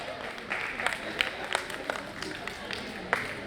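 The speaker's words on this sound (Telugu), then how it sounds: "ఒక్కసారి అందరూ గట్టిగా చప్పట్లు శ్రీలక్ష్మి గారి కోసం." Scattered clapping from a small audience at a women's association International Women's Day event, sparse and uneven rather than a full ovation, with a hum of voices beneath.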